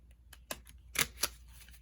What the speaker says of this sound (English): You can shuffle, as you can see here. Even though it's a small deck, I can shuffle it.